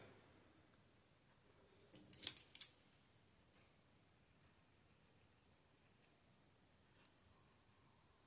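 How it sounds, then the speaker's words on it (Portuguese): Scissors snip into the seam allowance of a sewn fabric heart for a small keychain: a few quiet, close metallic clicks in a quick cluster, then two faint isolated snips against near silence. "Aqui nessa voltinha do coração, faço um pique"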